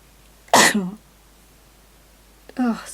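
Two sharp sneezes a couple of seconds apart, close and loud, in an otherwise quiet room.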